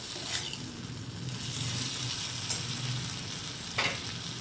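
Soaked poha mixed with potatoes, lemon juice and sugar being stirred in a pan, a soft continuous frying hiss with a few scraping spoon strokes, close but quiet.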